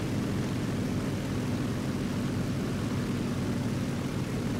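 Low-flying aircraft engines in the video game War Thunder make a loud, continuous roaring drone with a rushing, noisy texture. It holds steady throughout and no one speaks over it.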